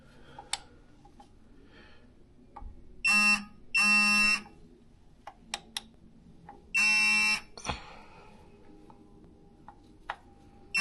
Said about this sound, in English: this torque wrench is that it starts beeping so early